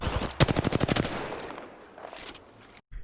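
Automatic gunfire in the video game Apex Legends, a loud rapid burst of about a dozen evenly spaced shots, followed by fainter scattered firing and a quieter tail.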